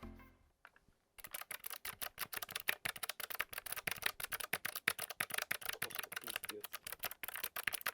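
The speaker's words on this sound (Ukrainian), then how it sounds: "на TKL не менш низькопрофільні кліки" Rapid, crisp clicking of low-profile mechanical keyboard switches on a Logitech G915 X TKL, dense and steady typing close up, after a brief quiet moment at the start.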